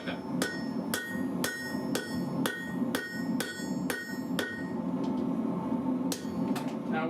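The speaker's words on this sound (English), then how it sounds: "you gotta do what I don't like to do, which is hammer back towards myself" A hammer rings on a steel blade tang at a forge, about ten sharp, evenly spaced strikes that pause briefly, then two more blows near the end, loud and close.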